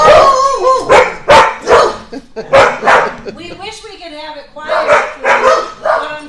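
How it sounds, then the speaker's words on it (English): Several dogs bark loudly in a veterinary hospital boarding kennel, with sharp, repeated bursts coming close together and a short lull in the middle. "But unfortunately, dogs bark."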